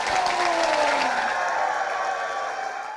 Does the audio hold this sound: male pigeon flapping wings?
no